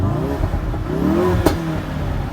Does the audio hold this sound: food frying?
no